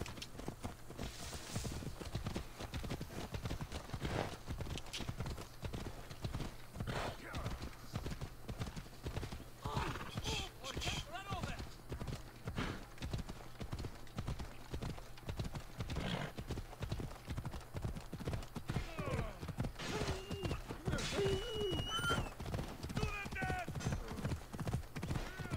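A horse galloping in Assassin's Creed Odyssey, with rapid rhythmic hoofbeats throughout and occasional neighs, while a person talks over it.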